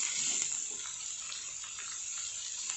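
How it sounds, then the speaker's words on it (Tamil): Vegetables sautéing in a pan for a Tamil vegetable white kurma, a steady close hiss with faint scraping as they are stirred, heard alone without talk. "நல்லா கிளறி விடுங்க. காயெல்லாம் நல்லா வதங்கணும்."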